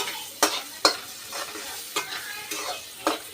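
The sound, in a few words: stirring egg rice in a pan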